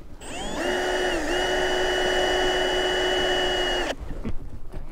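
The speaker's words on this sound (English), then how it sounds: "So I got the cleat in. I'm just screwing it in." Power drill driving a screw through a cleat for a flat-roof drain, one sustained high whine for about four seconds with a brief pitch dip, then stopping into quiet handling noise.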